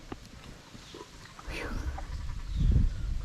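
A goat bleats nearby over a rustling, noisy outdoor background, with a louder low thump near the end.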